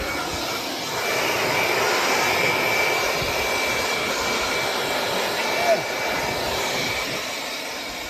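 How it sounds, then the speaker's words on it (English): An Eddie Bauer blower clears sawdust off freshly sawn boards with a loud, steady, close-up roar of rushing air that holds for the whole stretch with only slight swells. "Luckily we have our handy dandy Eddie Bauer blower."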